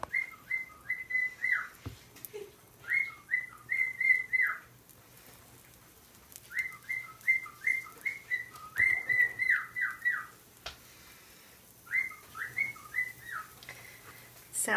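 A small bird whistles short bursts of bright, warbling notes in several separate phrases, close by, with soft kitchen clatter and a faint voice in between.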